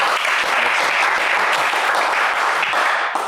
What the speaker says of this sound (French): On vous applaudit pour ça.